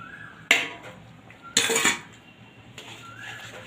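Poppy seed paste with mashed potato, ground green chilli and garlic being mixed in a pan for a Bengali posto dish, heard as two sharp metallic clinks and scrapes of a utensil against the pan.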